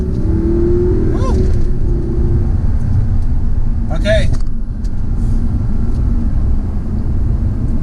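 Audi R8 Spyder engine accelerating under a low, steady rumble, with a brief rising rev and a sharp gear shift partway through; a person speaks briefly.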